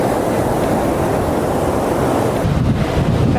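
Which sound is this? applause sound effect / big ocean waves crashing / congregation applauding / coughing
big ocean waves crashing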